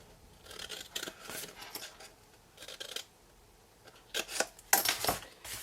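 Scissors snip through paper strips for a succulent garden tent box in a series of crisp, close cuts in separate bursts, quiet between them, with no talking.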